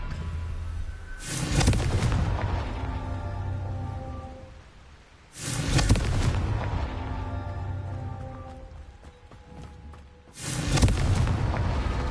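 In a Harry Potter video game, the Confringo fire spell sets off three heavy, booming explosions spaced a few seconds apart, each one rumbling and slowly fading before the next, with no talking over them.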